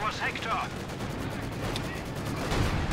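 Machine gun fire in Company of Heroes 2, a battlefield of rapid gunfire and distant artillery rumble under steady commentary from a talking voice.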